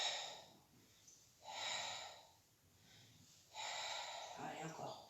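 Three loud breath cycles during a Pilates exercise, each a broad, airy rush of inhaling and exhaling separated by short pauses, close to the microphone with no talking.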